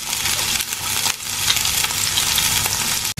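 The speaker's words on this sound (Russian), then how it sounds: "Бросаю креветки." Shrimp dropped into a pan of hot oil with garlic sizzle and fry loudly, a dense, steady crackle that continues unbroken and up close.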